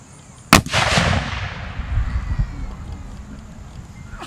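A live muzzle-loading cannon fired by an artillery battery, a single loud sharp boom followed by a long rumbling echo that fades over several seconds outdoors.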